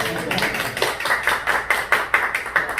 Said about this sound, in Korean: 이 정도 되면은 박수 한번 쳐야죠